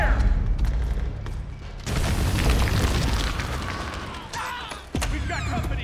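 Heavy suppressing gunfire and booming blasts from the Metal Gear Solid 4 battlefield roll in a dense, loud wash, with rumbling explosions layered over continuous firing and voices faintly in the mix.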